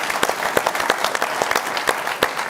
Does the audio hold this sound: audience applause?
yes